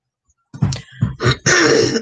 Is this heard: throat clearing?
yes